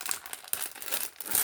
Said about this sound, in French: c'est vraiment du papier